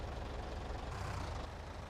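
A tractor engine in Farming Simulator 19 drones steadily while driving, with a continuous low, throaty rumble and no breaks.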